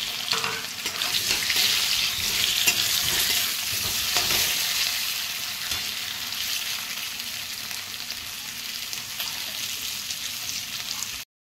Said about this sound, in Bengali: আমি ওই তেলের মধ্যে হালকা করে একটু সেদ্ধ করে দিয়েছিলাম ওই আলুগুলো আমি অল্প একটু নেড়ে নেব